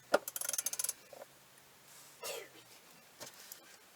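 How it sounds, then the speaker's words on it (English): A wrench snugs an engine oil drain plug back in on a 6.0 Powerstroke, a quick burst of close ratcheting clicks followed by a few scattered metallic clunks and a scrape, fairly quiet. "Stick the plug back in. Do it hand tight, make sure it doesn't cross thread, and then put your wrench on it."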